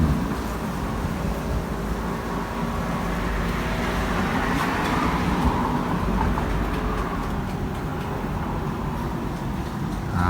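Steady roadway noise as vehicles drive past, a continuous broadband rumble with no voices, moderately loud throughout.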